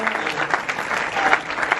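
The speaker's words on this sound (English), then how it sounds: "I will give these guys a very solid round of applause" Brief, lively round of applause from an audience at the Paris premiere of Yes Theory's Project Iceman, close dense clapping with a few voices and whoops threaded through.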